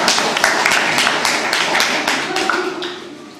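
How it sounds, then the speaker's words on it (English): Audience at a Toastmasters speech event gives a short round of applause, a few irregular hand claps close by rather than a full roar, with a voice talking over them. "Applause, please."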